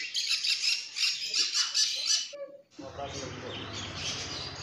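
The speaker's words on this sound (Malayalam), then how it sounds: "ഈ കാണുന്നതാണ് ആഫ്രിക്കൻ ഗ്രേ പാരറ്റ്. ഇത് കുഞ്ഞാണ്" A young African grey parrot chick at a bird house in Kannur, Kerala, gives a run of harsh, close, repeated squawks, then falls quiet as a broad noisy stretch follows with a person talking.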